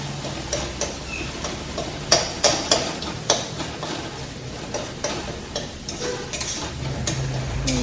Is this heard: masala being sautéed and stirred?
yes